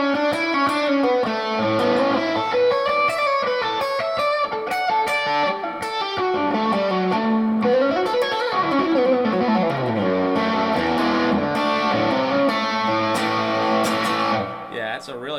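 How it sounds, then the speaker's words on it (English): Small 5-watt guitar amp with its reverb turned all the way up, a sustained solo line washing into a thick slapback reverb tail, loud and continuous over the full length. "that's a really great reverb"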